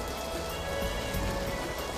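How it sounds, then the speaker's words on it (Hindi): Steady rain patters densely on surfaces, a constant even hiss with no voices heard. "अरे बारिश"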